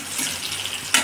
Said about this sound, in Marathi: तूप गरम केलंय, आता त्याच्यात टाकते हिरवी मिरची.